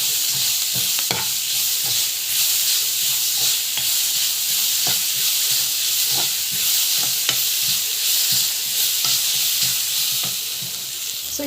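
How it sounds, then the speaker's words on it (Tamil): Grated raw mango sautéed in a pan for mango rice, with steady frying sizzle and repeated scraping stirs of a spoon against the pan throughout, close and fairly loud, easing off slightly at the end. "மாங்காய் துருவல் வந்து போட்டுக்கலாம். போட்டுட்டு நல்லா வந்து இது வதக்கிட்டுக்கோங்க"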